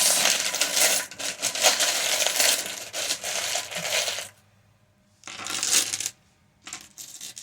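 Small metal charms and letter pieces rattle and clink as they are shaken, pulled and dropped, a busy jingling scrape that stops, then returns in a short burst and a final brief clatter.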